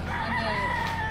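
A rooster crows at a cockfight in Siargao, Philippines, one long drawn-out call that fills the whole moment, loud and close over a busy crowd murmur.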